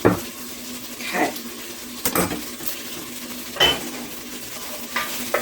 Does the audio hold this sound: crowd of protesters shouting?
no